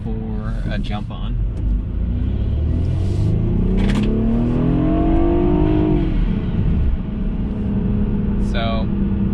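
A BMW 328i (F30, N20 engine) fitted with an Injen aftermarket air intake accelerates up a highway on-ramp, its engine droning and rising steadily in pitch under loud road rumble, heard from inside the car.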